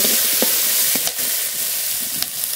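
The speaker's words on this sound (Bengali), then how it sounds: "লবণ, হলুদ গুঁড়ো, একটু জল দিয়ে মশলাটা ভালো করে কষিয়ে নেব।" Ginger, cumin and chili paste fries in a pan with a bright, constant hiss and sizzle, while light stirring strokes of a spatula scrape through at intervals.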